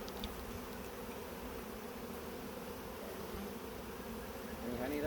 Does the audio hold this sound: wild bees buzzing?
yes